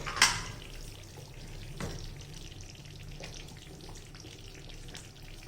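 Tomato thokku bubbling and frying in a pan, a low continuous sizzle and simmer with a sharp clatter at the start and a brief thump partway through.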